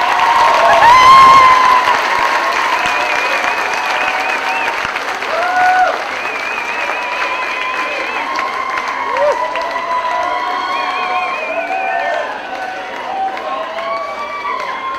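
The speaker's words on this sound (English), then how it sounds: "Let's give a round of applause to all our MPA graduates." An audience at a USC commencement ceremony claps and cheers for MPA graduates, loud dense applause peaking early and then settling into steady clapping, with scattered whoops and voices woven through.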